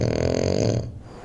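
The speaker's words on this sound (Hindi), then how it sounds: "ये खर्राटे कौन ले रहा है?" One loud, close snore with a rough, rattling buzz that trails off into a quieter breath after about a second.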